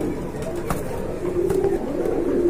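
Lahori pigeons cooing steadily at close range, with soft rolling coos repeating throughout and a faint background murmur.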